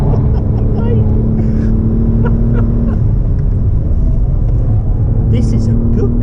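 A BMW M440i xDrive driving at speed gives a loud, steady roar of engine and road noise that stays constant throughout, with no talk in the clip.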